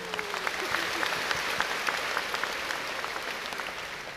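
Audience applause at a Korean cultural festival ceremony, a steady wash of clapping with individual claps popping out, moderately loud and without talk.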